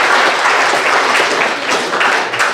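A loud, steady wash of dense applause from an audience at a school awards assembly, continuous and unbroken with no voices over it.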